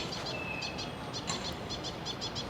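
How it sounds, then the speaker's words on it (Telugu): Repeated high chirping bird calls in short bursts over a steady hiss of outdoor background noise in a rooftop vegetable garden. "పక్షులు చూసారా ఎంత బాగా అరుస్తున్నాయో"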